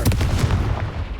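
A Confringo fire spell bursts in the Hogwarts Legacy video game, a loud, dense boom with a few rapid punchy thumps rolling together and trailing off over about a second, no voices.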